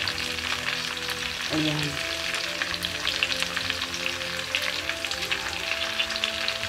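Onion and celery frying in a pan, a steady close sizzle that runs throughout, with a brief spoken word near the start.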